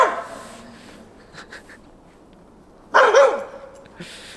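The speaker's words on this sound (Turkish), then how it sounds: "köpekler bana hep saldırmaya çalışıyor" A few sharp dog barks sound nearby in scattered bursts, with a louder flurry of barking near the end and quiet gaps between.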